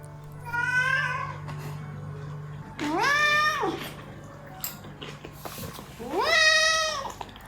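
A cat meows three times, each call drawn out and whiny, spaced a couple of seconds apart over a low steady hum.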